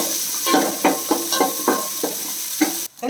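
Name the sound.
onions sautéing in a pan for Kerala fish curry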